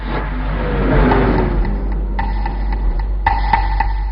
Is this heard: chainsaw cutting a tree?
no